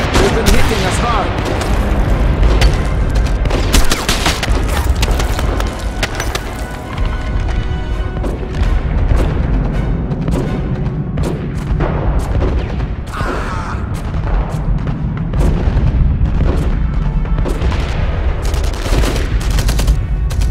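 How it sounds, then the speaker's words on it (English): Explosives, barrels and ammo crates blowing up on a street in the Enemy Front video game, heavy booms mixed into sustained rattling gunfire throughout, with voices speaking in the din. "Set out explosives, barrels and ammo crates on the street. One hit and boom!"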